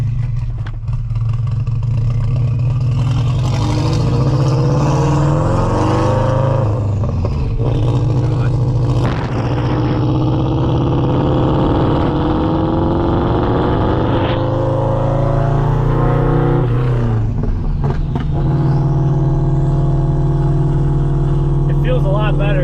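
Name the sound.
Subaru WRX engine revving through fender exit exhaust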